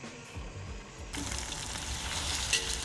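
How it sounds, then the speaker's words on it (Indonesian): Spring onion and onion sauté in a pan, a quiet hiss that swells into a louder, steady close sizzle partway through, with a brief stirring scrape near the end and no talking. "Tumis daun bawang dan bawang bombay hingga matang"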